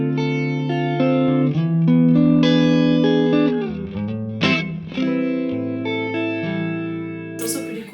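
Electric guitar through a JHS modulation pedal with intensity turned up and speed turned down, sustained chords and notes that swell and waver slowly, close and loud.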